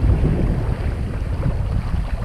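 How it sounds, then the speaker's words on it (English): Blustery wind buffets the microphone in uneven gusts on the water near Charlotte Harbor, Florida, a loud rumbling roar with faint water sounds beneath. "you can definitely tell there's some gusts"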